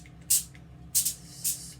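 Cooking spray hisses in three short, close bursts onto a foil-lined baking tray being greased, with quiet pauses between the sprays.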